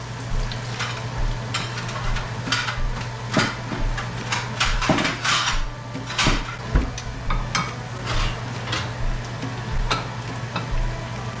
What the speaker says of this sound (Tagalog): Gigisa ko muna ng maigi.